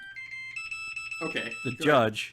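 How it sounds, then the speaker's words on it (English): An alarm goes off with a string of short, high, evenly repeating beeps, fairly faint at first and then continuing beneath close conversational voices. "That was my alarm."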